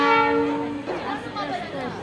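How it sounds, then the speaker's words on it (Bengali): A Darjeeling toy train sounds a loud, steady horn at the station for under a second, then fades into general platform noise. "তোমরা নিশ্চয়ই আওয়াজটা শুনতে পারলে হর্নটা এক্ষুনি ট্রেনটা আসবে"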